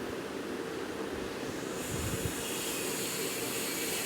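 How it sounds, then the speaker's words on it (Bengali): Hilsa fish fries in spiced mustard-style oil for a tel jhal curry, giving a continuous hissing sizzle that grows slightly louder partway through, close by with no talk. "এরকম এইভাবে ইলিশ মাছটাকে একটা পিঠ ভালো করে ভাজা ভাজা হতে দেবো।"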